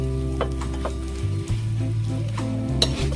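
Palak aloo paratha roasting in ghee on a pan, a steady close sizzle with occasional scraping and clinking accents over a low hum.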